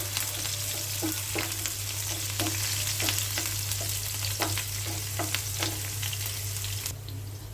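Onion and green chilies with whole dried red chilies fry in oil in a pan, a continuous close sizzle broken by repeated sharp spatula scrapes and stirs, easing off just at the end.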